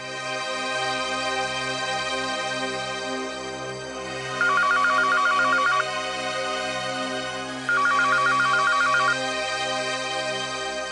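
An electronic phone ringtone sounds in two short bursts of rapid tones, separated by a pause, over a steady musical background with no talking.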